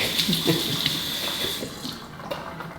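Hot water runs steadily from a bathroom sink faucet to wet a shaving brush, a continuous close splashing stream with no voices over it.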